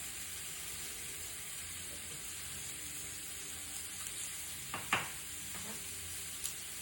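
Shiitake and oyster mushrooms sizzle steadily in butter, a constant close hiss with a few soft stirring clicks and clatters near the middle.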